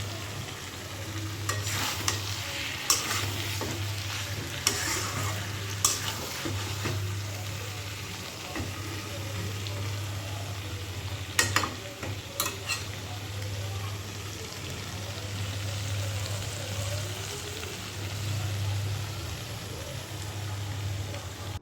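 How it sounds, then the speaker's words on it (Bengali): Chicken meat braising in a pan, stirred steadily with a spatula in scraping strokes over a continuous sizzle, with a low steady hum beneath. "মাংসটা কত সুন্দর কষে গেছে তো আর একটু সময় কষাবো"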